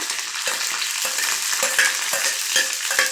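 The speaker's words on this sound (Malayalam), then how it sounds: "നമുക്ക് കടുക് ഇട്ട് കൊടുക്കാം. കടുക് പൊട്ടി നമുക്ക് കുറച്ച് കറിവേപ്പില ഇനി വെളുത്തുള്ളി കട്ട് ചെയ്ത് വെച്ചിട്ട് ഇട്ട് കൊടുക്കാം" Garlic, mustard seeds and curry leaves fry in hot oil for a mango pickle, a steady close sizzle with scattered pops and crackles and occasional stirring scrapes throughout.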